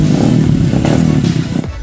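An underbone motorcycle engine drones loud and close on a trail with a continuous rough rumble and rattling clatter, and no talk.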